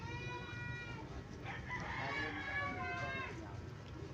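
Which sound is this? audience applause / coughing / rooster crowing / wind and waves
rooster crowing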